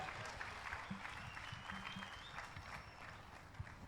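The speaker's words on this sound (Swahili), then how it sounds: "endelea kuongeza makofi mengi mengi" A church congregation applauds a preacher during a service, a brief burst of steady clapping and crowd noise, fairly faint and with a faint voice in the background.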